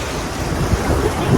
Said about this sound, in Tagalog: Ang alon eh. Maalon kaya. Ang lakas ng hangin.